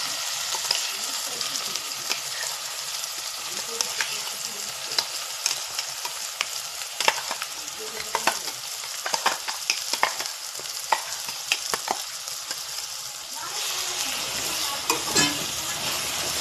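Ground masala paste sautéed in a pan over medium heat for a masala brinjal dish, a steady hissing sizzle broken by repeated scraping and tapping strokes of a spatula, with no talking.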